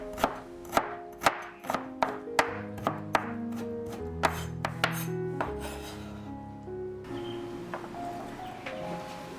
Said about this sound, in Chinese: 趁这个时间来切一点泡姜和泡蒜，切碎备用